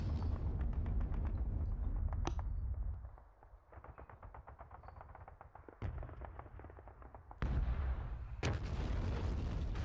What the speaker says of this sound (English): he's firing at my tanks there